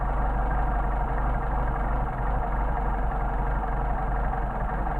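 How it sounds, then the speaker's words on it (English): A Mercedes 190SL engine fitted with Solex carburetors idles steadily, a continuous low mechanical rumble heard up close with no talking over it. "you should be able to hear the engine"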